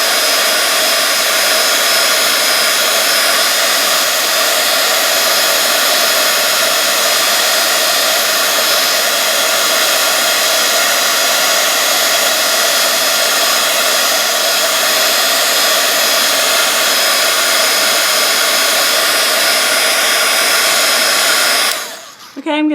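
A heat gun melts embossing powder on transparency film while crafting 3D butterflies, giving off a loud, close, steady blowing whir that holds unbroken for about twenty seconds before cutting off abruptly at the end.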